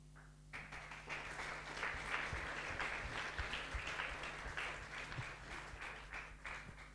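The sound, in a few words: conference delegates applauding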